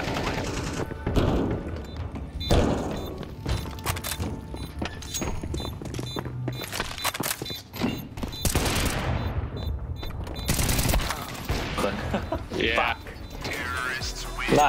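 Weapon reloading in Counter-Strike 2, clicking and ratcheting mechanical clacks mixed among sharp gunfire bursts, with occasional voice chatter and game noise throughout.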